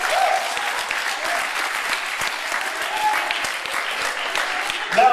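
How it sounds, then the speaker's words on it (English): A hearty round of applause from a crowd at a Relay for Life event at DeSales University, continuous and evenly dense throughout, with no voices over it. "Give them a round of applause too."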